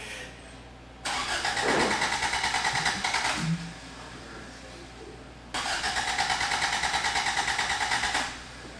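Toyota MR2 with a water-air intercooler and tuning mods, cranked over twice: each attempt is a loud, close, rhythmic churning of the starter and engine lasting a few seconds, separated by a quiet gap.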